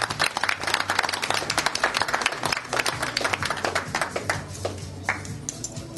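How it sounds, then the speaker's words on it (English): A crowd at a poker tournament final table claps steadily in dense, sustained applause that thins slightly toward the end, with no voices over it. "let's have a round of applause for Aaron Barry."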